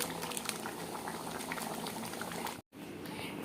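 Duck meat curry bubbles steadily in a pot, a continuous close simmering sound with soft popping throughout, briefly cut to silence near the end before resuming.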